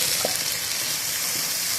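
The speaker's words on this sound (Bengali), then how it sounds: "পটল দিয়ে চিংড়ি মাছ আর কচুর মুখি দিয়ে চিংড়ি মাছ ভাজা হয়ে গেছে" Prawns frying in oil in a pan, a close, steady hiss of sizzling with faint crackle over a short stretch.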